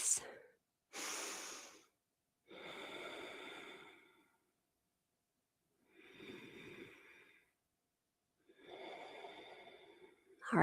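Audible deep breathing held through a standing yoga pose: five or six breathy inhales and exhales, close to the microphone, each a second or so long and separated by near silence.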